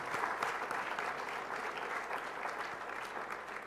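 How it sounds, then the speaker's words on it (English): Steady audience applause at an anti-corruption innovation challenge event, dense clapping held at an even level without a break for its whole length. "So if we can give them a round of applause"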